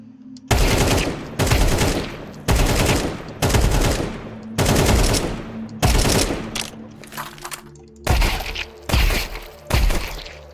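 Pistol gunfire in the Counter-Strike 2 video game on a warm-up workshop map: repeated loud bursts of rapid shots in uneven groups, with gaps between, close and harsh with no talking.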